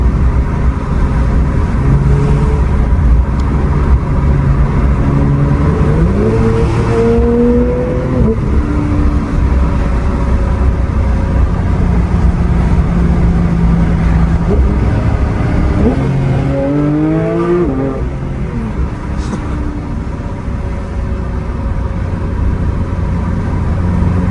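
A GT3 car's engine revving hard while driving, a loud continuous drone that climbs in pitch several times through gear changes, steady and close, with no voices.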